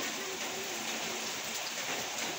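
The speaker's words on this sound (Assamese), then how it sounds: "বৰষুণ দি আছে ৱেডাৰটো ভাল লাগিছে বাৰু" Rain falling steadily outdoors, a soft, even wash of hiss with no distinct drops, faint and continuous.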